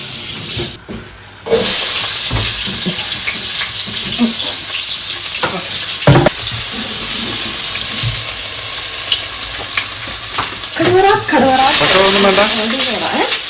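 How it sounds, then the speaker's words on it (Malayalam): Sliced onions hitting hot coconut oil, with a loud, continuous sizzle and hiss close up, broken by stirring scrapes, and a few brief voices in the background. "വെളിച്ചെണ്ണ ഒഴിച്ചിട്ട് നന്നായിട്ടൊക്കെ ചൂടായി കേട്ടോ. ലെറ്റസ് പുട്ട് അവർ സവാള."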